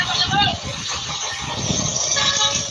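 A jeep engine runs steadily through the whole stretch with a high squealing tone on top, heard from inside the vehicle while people talk over it.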